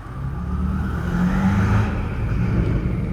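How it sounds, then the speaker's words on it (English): A straight-piped BMW M5 Competition idles steadily and loudly up close, a deep continuous rumble with a faint turbo whistle riding over it throughout. "I'm idling right now, you can hear it whistling."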